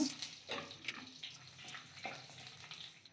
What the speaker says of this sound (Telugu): సో ఆయిల్ హీట్ అయిందండి. ఇప్పుడు ఇందులోకి ఎండుమిర్చి వేసేసుకుంటున్నాను.